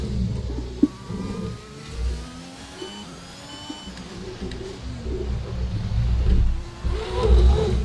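Race car engine in a racing video game at the Mexico GP, revving and accelerating through a corner toward a launch, mid-pitched whine rising and falling, fairly loud and steady with some background game sounds.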